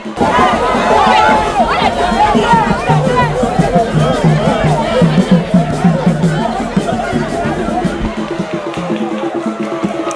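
Onlookers at a Vodun festival dance raise loud, dense crowd voices, chattering and calling together close around the listener, with a steady rhythmic pulse and no break for the full stretch.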